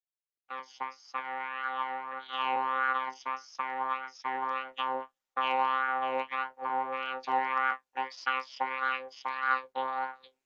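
Warbling synthetic tones from a GarageBand science-fiction sound effect sweep up and down in pitch in several bursts separated by short pauses.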